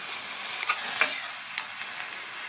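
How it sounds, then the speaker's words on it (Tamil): Beans with salt stirred in a pan, a close hissing sizzle with a few quick scraping strokes of a spoon over a short stretch. "இந்த பீன்ஸுக்கு தேவையான அளவு உப்பு சேர்த்துட்டு நல்லா ஒரு தடவை மிக்ஸ் பண்ணி விட்டுக்கோங்க"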